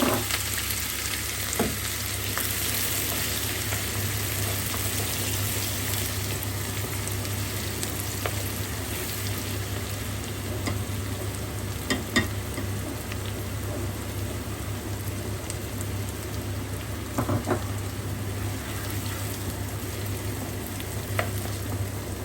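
Food fries in hot oil in a pan, a steady close sizzle with faint crackles and occasional stirring clicks, and no talking.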